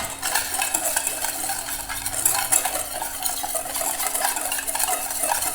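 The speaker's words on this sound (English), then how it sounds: "I find that using a whisk is the easy way to do that and to get it mixed well" Whisk briskly stirring sugar, almond flour and all-purpose flour in a bowl, a continuous scraping, rattling swirl that stays steady and fairly loud throughout.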